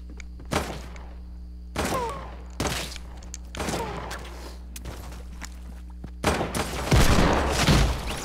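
Gold hand cannon in the video game Fortnite fires in a series of heavy, booming shots spaced roughly a second apart, loud and close, with a rumbling burst toward the end and no talk.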